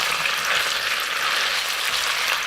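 Chicken frying in a pan until brown, a steady loud sizzle with dense crackling throughout, alone with no talk.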